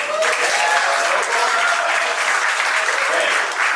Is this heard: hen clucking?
no